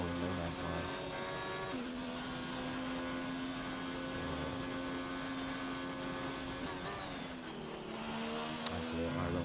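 An F1 race car in the F1 2019 video game heads into the Spoon corner. A steady, high engine whine holds with a few pitch drops at gear changes, under continuous commentary.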